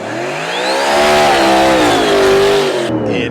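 A Hellcat muscle car with a freshly swapped engine launches down a Las Vegas drag strip. Its loud, close engine roars and climbs through the revs with a strong whining tone, sweeping past before cutting off abruptly.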